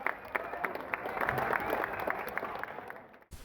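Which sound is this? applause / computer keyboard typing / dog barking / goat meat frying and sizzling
applause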